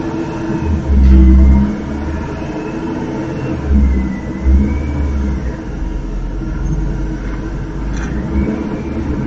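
A truck pulls in on a residential street at night, caught on a distant security camera: low engine rumble and revving swells rising and fading, with no talk.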